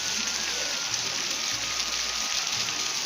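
Steady rain pours down outside a house, a dense, even hiss close by with a low rumble underneath and no voices.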